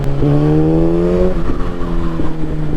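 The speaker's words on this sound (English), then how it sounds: "I can just twist the throttle and I'm gone." A Yamaha FZ1 motorcycle engine rises in pitch as the throttle is twisted, then holds a steady loud drone close to the mic, with wind noise throughout.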